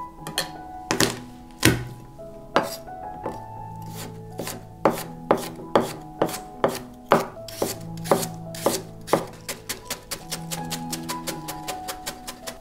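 A knife chops garlic and ginger on a wooden board in quick, steady strokes that speed into a dense run, each hit a crisp close thunk, with no talk.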